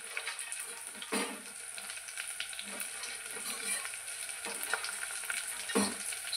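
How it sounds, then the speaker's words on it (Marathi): Peanuts sizzling in hot oil for masala khichdi, a steady crackling fry with a few louder stirring clatters against the pan, close and continuous with no talk. "आता यामध्ये मी टाकणार आहे शेंगदाणे."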